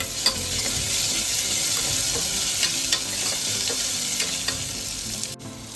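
Raw finely chopped potato being stirred into a sizzling pan of frying mixture, with a steady crackling sizzle and repeated scraping stir strokes, close and alone.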